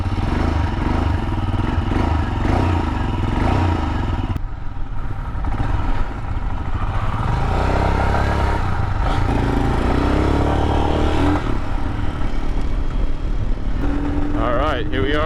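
A 2022 Royal Enfield Himalayan motorcycle rides along, with a continuous loud engine drone and wind rumble throughout. A rider talks over the engine noise.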